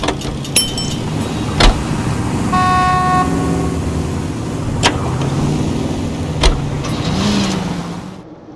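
A 1940s car drives through city streets in the video game L.A. Noire, its engine humming steadily with several short horn toots and thumps from nearby traffic, fairly loud and close.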